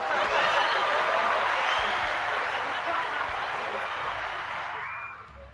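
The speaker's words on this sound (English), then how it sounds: "That's a lot of clapping for me." Studio audience clapping warmly on a talk show as a guest is welcomed, a dense sustained round of applause with a few chuckles mixed in, gradually tapering off toward the end.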